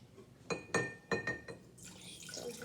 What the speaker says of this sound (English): You pour it in this jar.